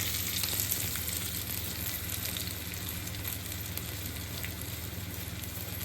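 Hot oil sizzling and crackling steadily as spices and sesame seeds temper for bottle gourd dhokla, a soft continuous fry with small pops, no voices.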